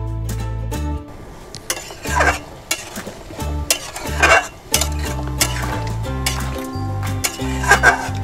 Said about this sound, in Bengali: বন্ধুরা এবার ডিমগুলো দিয়ে আরেকটু ফুটিয়ে নেব।